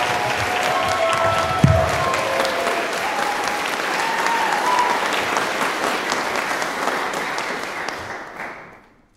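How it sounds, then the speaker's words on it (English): Audience applauding at a jazz band concert, a dense, loud round of clapping that holds steady for several seconds and then dies away at the end. "So y'all give her a big round of applause, ladies and gentlemen."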